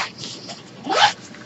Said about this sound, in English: It does have the zipper,